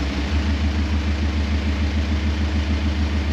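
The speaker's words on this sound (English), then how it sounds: "So you can hear the slight rough idle to this one." A VW Amarok fitted with a Kufatec exhaust sound booster idles with a slightly rough, steady low rumble, loud and close, with a subtle pulsing throb and no voices.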